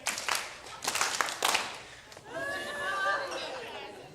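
An audience at a motivational talk claps together on cue in a short, loud burst that ends quickly, followed by a speaker addressing the room.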